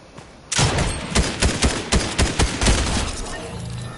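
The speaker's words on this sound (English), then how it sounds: "What were they shooting at?" Gunfire in the video game Fortnite: a rapid burst of sharp shots opens the clip, then a run of separate loud reports at an uneven rhythm, fading to a softer tail.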